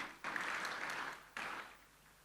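Audience applause welcoming a guest speaker at a spiritual event in Mount Abu: a burst of clapping that fades, then a second shorter burst, moderately distant and with no talk.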